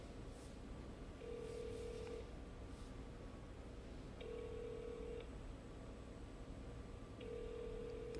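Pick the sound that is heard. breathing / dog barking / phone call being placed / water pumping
phone call being placed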